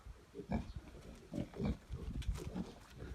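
Pigs grunt in irregular bursts of low, close, snorting sounds with short pauses between them, and no one speaks.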